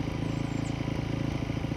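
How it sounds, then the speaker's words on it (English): A small garden tiller engine runs steadily close by, with a slight stumble, producing a continuous low, rough mechanical putter with fast regular pulsing and no voices. "May be able to hear the tiller running in the background"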